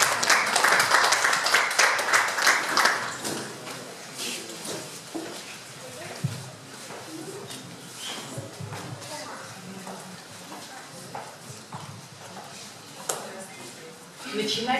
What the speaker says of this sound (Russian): Валентина Гарак, пожалуйста, аплодисменты.